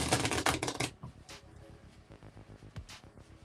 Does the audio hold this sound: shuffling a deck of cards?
yes